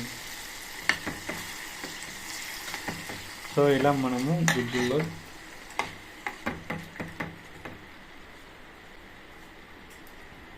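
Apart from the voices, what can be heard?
tempering bubbling in tamarind pulp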